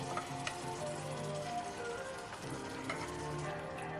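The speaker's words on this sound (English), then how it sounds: "So we're going to make sure this is mixed in well now. Do some stirring." Tomato puree and fire-roasted tomatoes get stirred into a simmering seafood stew in a pot, a soft steady sizzle with faint scraping and clicks of the utensil, close and quiet.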